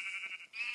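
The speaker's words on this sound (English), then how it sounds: "Can you finish off this sheep?" A sheep in the Minecraft video game bleats in one steady, wavering cry lasting under a second, with a brief break near the middle, heard alone and fairly faint.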